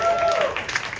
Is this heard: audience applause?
yes